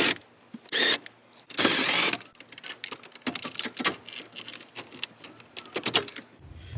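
A screwdriver works screws out of a Honda CRX climate control unit, giving quick ratcheting clicks and short bursts of scraping, close and loud, with scattered small knocks.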